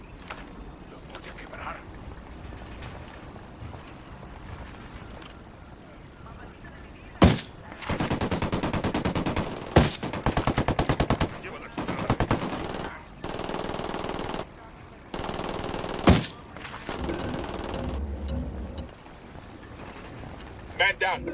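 Gunfire in Tom Clancy's Ghost Recon Wildlands, with loud bursts of automatic fire in several volleys and a few sharp single shots, mixed with game ambience and radio-style voices.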